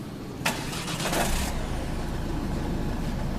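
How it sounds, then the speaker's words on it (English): A car fitted with hand controls starts with a short crank, then its engine settles into a low, steady idle, heard fairly faintly from inside with no talking. "So I'll just turn the car on and you can hear it all going."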